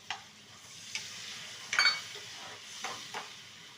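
Cluster beans and onion curry sizzling in a pan as water goes in, a soft steady frying hiss broken by a few brief sharp bursts and stirring scrapes, close and fairly quiet.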